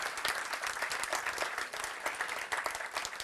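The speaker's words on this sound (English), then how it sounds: "Let's give them another round of applause." Sustained audience applause fills a hall at the 2024 NATO Youth Summit in Stockholm, dense, steady clapping from a large crowd with no break throughout.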